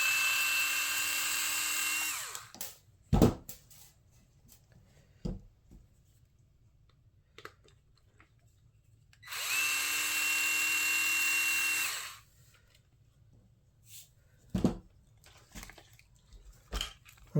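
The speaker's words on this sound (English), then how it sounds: "Those 2 are your motor mount screws, so let's get those." A power driver backs out the motor mount screws on an RC truck, with two separate whirring bursts a few seconds each, close and loud, and quiet handling clicks and taps between them.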